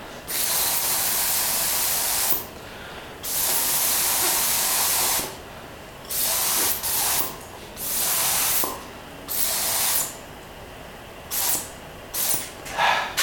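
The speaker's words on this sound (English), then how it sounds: "some of that wood ash you saw me mixing up yesterday, and I'm going to spray it on" Repeated bursts of a spray gun hissing as it applies wood ash glaze to pottery, several seconds each at first, then shorter on-off sprays with brief silent gaps, close and steady.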